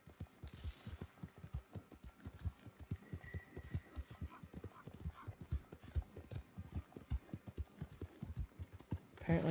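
A black horse's hooves clip-clop in a steady, quick rhythm in the game Red Dead Redemption II, close and fairly soft, with no voices.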